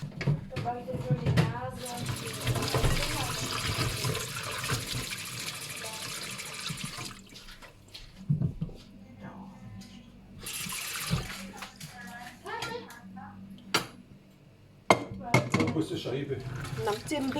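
Mangoes and small tamarind pods washed under running tap water, a steady splashing rush with clatter of the fruit and a container, while someone talks over it.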